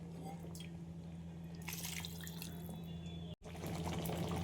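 More water trickles and drips into a pot of aloo dum, a faint continuous pour over a low kitchen hum, stopping abruptly before resuming briefly.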